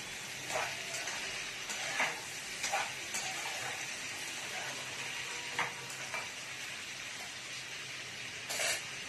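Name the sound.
vegetables frying with turmeric and salt, stirred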